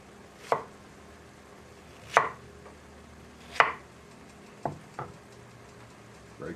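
A knife cuts vegetables into large chunks for a beef vegetable soup, giving five sharp, well-spaced chops on a cutting board, close and clear, against a quiet room.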